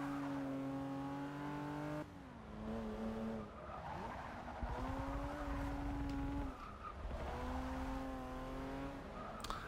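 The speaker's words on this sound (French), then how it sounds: "le bruit moteur fait tellement pitié" Porsche engine in the Forza Motorsport 6 racing game, revving in sustained tonal pulls with gear changes and tire squeal, heard alone with no talk.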